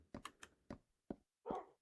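Minecraft dogs give a quick run of short, sharp barks, followed by a longer whining yelp, close and alone against silence.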